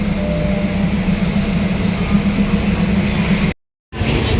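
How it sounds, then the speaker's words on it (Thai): Constant low rumble and rattle of a departing train moving along the tracks, steady and fairly loud, cut by a brief silence near the end. "รถไฟออกแล้วนะครับ"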